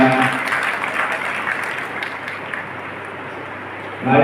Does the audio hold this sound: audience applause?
yes